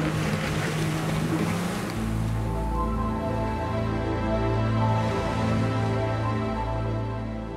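A boat engine hums steadily as it opens up on the river toward the Atlantic near Sanlúcar de Barrameda, a loud continuous drone with water rushing past the hull.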